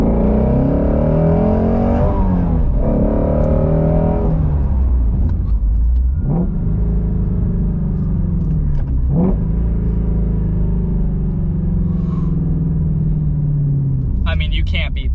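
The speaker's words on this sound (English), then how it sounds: "Hear that exhaust valve open up." A 2017 Ford Mustang GT350 exhaust roars loud and close, the engine rising and falling through revs with sharp blips on rev-matched downshifts, while someone talks over it.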